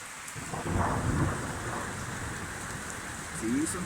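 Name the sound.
thunder during heavy rain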